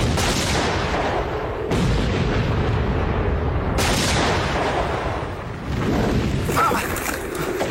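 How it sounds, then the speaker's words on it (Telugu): Bombs go off during a movie fight scene: loud, booming blasts land roughly every two seconds, each one a sharp burst that rolls into sustained rumbling. "బాంబులేయండిరా."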